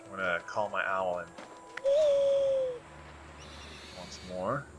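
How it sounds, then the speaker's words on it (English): An owl called in within Far Cry Primal, a single drawn-out hoot heard between stretches of talk, with quiet outdoor ambience. "Alright. I'm gonna call my owl in."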